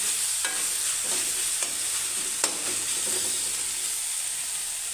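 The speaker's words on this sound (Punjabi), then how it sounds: "ਹੁਣ ਆਪਾਂ ਟਮਾਟਰ ਨੂੰ ਥੋੜਾ ਜਿਹਾ ਭੁੰਨ ਲਾਂਗੇ" Tomatoes fry in a pan for Punjabi-style aloo matar, a steady close sizzle and hiss broken by several sharp clinks and scrapes as they are stirred.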